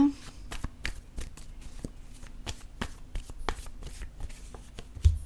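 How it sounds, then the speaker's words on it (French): A deck of cards is shuffled with quick, crisp riffling clicks, followed by a card being drawn, close and moderately loud under a person speaking. "je vais plutôt piger une carte avant d'aller trop vite"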